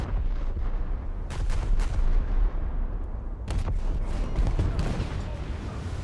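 Ship guns firing in a War Thunder naval battle, heavy continuous rumbling booms with several sharper blasts layered over a loud, dense battle din, no speech.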